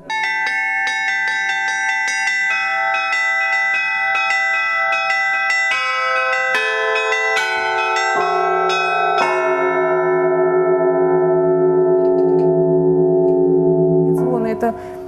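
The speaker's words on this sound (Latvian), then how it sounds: "Звон – это перезвон, когда колокола звучат от большого к малому по очереди, да, с определенным промежутком." Russian church bells in Limbaži, Latvia, ring in a descending peal from large to small, each bright, resonant strike sounding in turn and overlapping with the others, loud and close.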